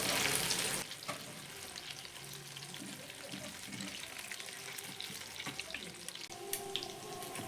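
Snacks frying in hot oil, a steady soft sizzle with occasional stirring and watery clatter, close by and continuous with no talk.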